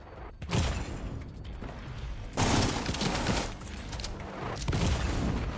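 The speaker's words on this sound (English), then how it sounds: "Enough of the fucking grenades already." Grenade explosions in a video game, with a dense run of loud booming blasts and crackling debris that starts abruptly and keeps surging in heavy waves for several seconds.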